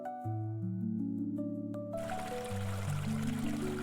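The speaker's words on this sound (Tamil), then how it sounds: "இப்போ நம்ம வந்திருக்கிறது குருவம்பட்டி ஸ்பாட்டில் இருக்கிற ஒரு அருவி ஸோ இந்த அருவி வந்து பார்த்தீங்கன்னா ஒரு செயற்கையாக உருவாக்கப்பட்டது" An artificial waterfall at Kuruvampatti park in Salem pours with a steady, loud rushing hiss that swells in partway through, mixed with sustained tonal background music.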